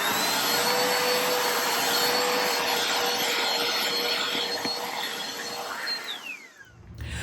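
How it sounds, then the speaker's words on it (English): A vacuum cleaner runs steadily up close with a constant whine and hiss, its pitch shifting near the end as it is moved or switched off. "And then I like to vacuum."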